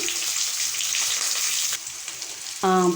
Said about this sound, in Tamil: பெரிய வெங்காயம் கட் பண்ணி வச்சுருக்கேங்க அதை போட்டு வதக்கிக்கலாம்